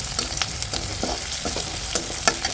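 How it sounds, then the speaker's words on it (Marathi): Chilli, onion and cumin fry in hot oil for a gram-flour dish, a loud continuous close sizzle with soft stirring scrapes and no talking. "तेलामध्ये मिरची कांदा जिरं टाकलेलं आहे"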